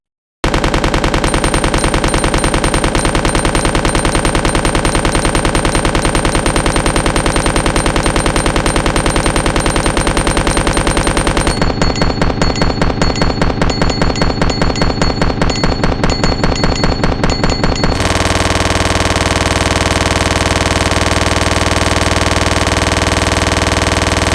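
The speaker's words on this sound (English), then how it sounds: "a magazine for the Ingram M11. All right, so here's Leon holding it, looking pretty bulky there. Let's test it out." Ingram M11 submachine gun fire in Resident Evil 2: long, loud sustained bursts of rapid automatic shots, a brief change in tone partway through, then a steady mechanical drone to the end.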